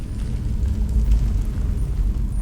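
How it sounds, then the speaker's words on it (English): A deep, rumbling video game explosion fills the moment, a sustained low roar with crackling debris, heavy and close, with no voices. "Explosions."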